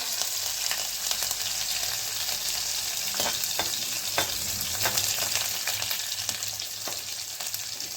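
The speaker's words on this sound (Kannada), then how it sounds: "ಬೆಳ್ಳುಳ್ಳಿ, ಮೆಣಸಿನ್ಕಾಯಿ ಸ್ವಲ್ಪ ಫ್ರೈ ಆಗಿ" Garlic and green chillies fry in hot oil for a Badanekayi bartha (brinjal dish), giving a steady, close sizzle with occasional stirring scrapes throughout, no voices.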